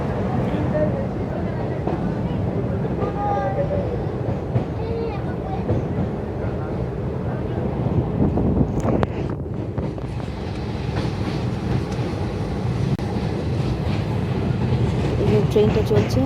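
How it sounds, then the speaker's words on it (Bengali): A train rolls steadily across a bridge with a constant loud rumble and rattle of the carriages, heard from inside near an open door, with a few voices speaking over the noise. "ট্রেনটা চলছে"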